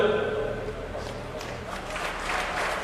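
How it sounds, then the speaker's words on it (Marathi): Steady applause from a crowd at a felicitation ceremony at a rally in Masur, Karad, a dense patter of many hands clapping at once, sustained for the whole stretch at moderate loudness. "आपण टाळ्या वाजवूया"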